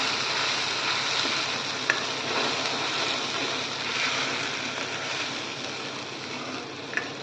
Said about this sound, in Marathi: आपण मसाला ॲड करूया यात चांगला परतून घ्यायचा आहे मसाला आपला